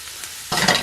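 Diced onion and green pepper hit a hot pan over medium heat and start frying, a sudden bright sizzle rising after a short quiet lead-in.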